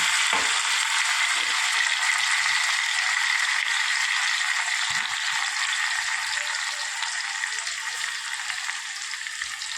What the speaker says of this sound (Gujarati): તો અને ફરી જેવું તેલ નાખેલું છે, એમાં ડુંગળી છે, ટામેટાં, લસણ અને મરચાં.